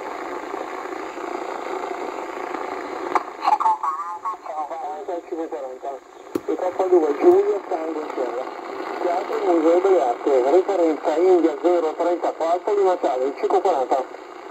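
Single-sideband voice reception on a QCX transceiver with SSB modification, tuned through the SSB portion of the band: garbled, pitch-shifted radio voices drift in and out over a steady hiss, growing denser and louder after a brief dip midway.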